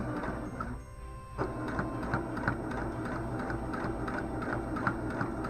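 Sewing machine stitching slowly along a zipper pouch, a steady mechanical whir with regular faint ticking of the needle, briefly pausing near the start before running continuously at close range with no talk.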